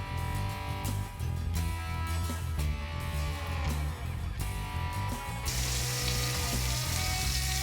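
Blade steak searing in a hot pan, a steady close sizzle that swells into a louder, brighter hiss near the end, with no voices.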